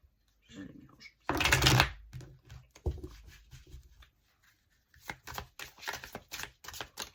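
Tarot cards being shuffled, a brisk riffling burst followed by softer slides and taps of the deck, mixed with a woman's speech.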